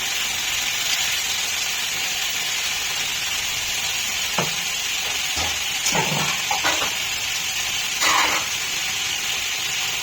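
Chili peppers dropped into hot oil in a pan while cooking butter paneer and polao, giving a steady broad sizzle throughout with a few sharper crackles and spits midway and near the end, close and fairly loud.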